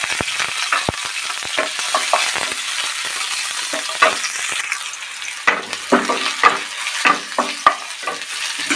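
Mustard seeds and onion go into hot oil for bhat bhaja fried rice, giving a steady close sizzle broken by sharp spattering pops and stirring scrapes that grow busier toward the end, with no voices.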